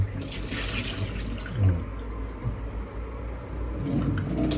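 Tap water runs steadily into a pot for boiling beef sinigang soup in a home kitchen, a continuous close splashing stream with a few brief louder gurgles and no talk.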